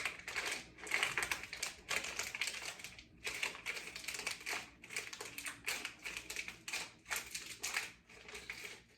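Crisp snipping and crunching cuts sound close up, coming in quick irregular bursts with brief pauses and no talking.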